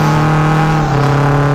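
Toyota FRS engine revving at close range, a steady loud drone with a slight wobble in pitch, then cutting off abruptly at the end.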